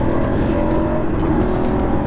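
A 2023 BMW F 850 GS Adventure Rally motorcycle engine roars loudly and steadily close by, its pitch climbing slightly as it accelerates in dynamic mode under heavy wind rumble.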